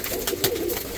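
Pigeons cooing in a loft, soft throaty coos over a continuous hiss of ambient noise, close and low in level.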